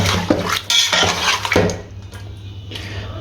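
Beef karahi with tomatoes stirred in a metal pot, a spoon scraping and clanking against the sides in a few loud close strokes, then quieter bubbling and faint utensil taps.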